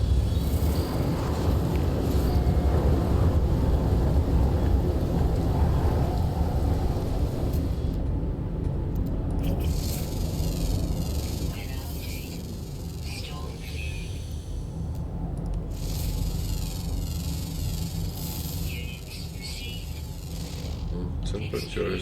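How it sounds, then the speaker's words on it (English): A video game thunderstorm fills the scene with a steady, loud, broadband roar of wind and rain over deep rumbling. The roar eases slightly midway, then continues unbroken. "Is this storm going to last forever?"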